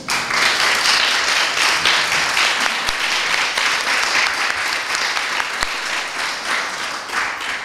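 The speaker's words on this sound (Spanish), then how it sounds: "os podéis aplaudir de nuevo" A crowd applauds at a municipal equality plan launch event in Cartagena, dense sustained clapping from many hands, loud and even throughout with no voices over it.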